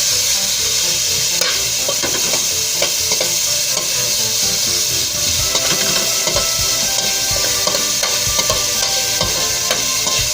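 Vegetable spring roll filling of onions and red pepper sizzles loudly and constantly in a pan, with repeated scraping and clinking of a utensil stirring throughout.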